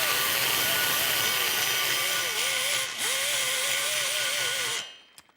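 A rotary die grinder with a large fluted carbide bit porting a cylinder head, a loud steady high-pitched whine with wavering pitch that runs continuously for several seconds, then spins down and stops near the end.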